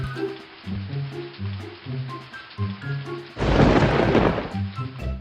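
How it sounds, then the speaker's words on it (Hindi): Heavy rain bursts in with a loud rumbling crack of thunder partway through, following a stretch of deep musical tones and low rumbles. "बिजली की कड़कड़ाहट के साथ बारिश भी शुरू हो गई।"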